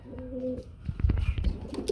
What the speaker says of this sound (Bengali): একটা সিঙ্গেল কবুতর দেখতে পাচ্ছি আমরা